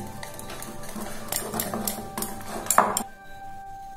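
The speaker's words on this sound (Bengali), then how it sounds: "এইবারে আমরা এই মিশ্রণটার মধ্যে 1 চামচ পেঁয়াজ আদা রসুন বাটা দিয়ে দিলাম, দিয়ে এটা ভালো করে মিশিয়ে নেব।" Bombay duck (loitta) fish fry batter being stirred in a bowl after a spoonful of onion, ginger and garlic paste goes in; light clinks and scrapes of a spoon against the bowl, close and fairly quiet, with no talking.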